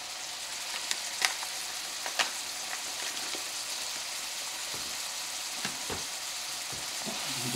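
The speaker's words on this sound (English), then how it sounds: "Just let me mix this all in together." Taco seasoning being mixed into food frying in a pan: a steady, soft sizzle with scattered sharp scrapes and taps from stirring, close by and with no talking.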